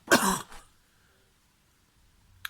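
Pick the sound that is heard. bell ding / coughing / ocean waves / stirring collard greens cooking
coughing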